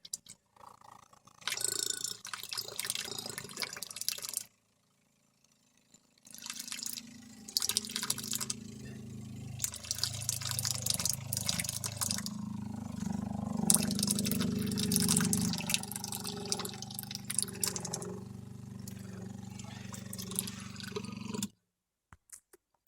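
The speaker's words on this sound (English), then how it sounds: "priming the pump here with this bottle of water." An electric water pump in a pop-up camper runs while being primed with bottled water, a steady low hum with gurgling, sputtering water noise over about twenty seconds, briefly stopping near the start before running on, then cutting off.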